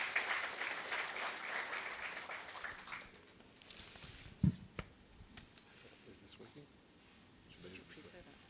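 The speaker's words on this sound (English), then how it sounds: "Mr. Kudakwashe Ndlukula, a round of applause to him." An audience at the official closing ceremony of the SADC Sustainable Energy Week applauds. A dense round of clapping fades after a few seconds, and a voice then speaks over sparse, scattered claps.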